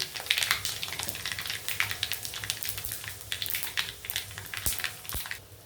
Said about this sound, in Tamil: நல்லா பொரியுது. இந்த நேரத்தில் ஒரு 3 மிளகாய் சின்னதாக நறுக்கினது சேர்த்துருக்கேன்.